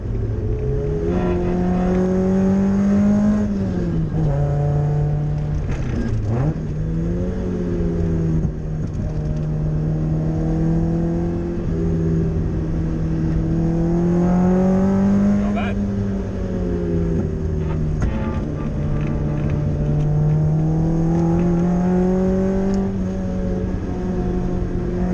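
A Toyota AE86 with a 4AG engine on throttle bodies drives along a street, its engine droning and rising and falling through revs in a continuous, fairly close in-cabin hum, with a voice talking over it.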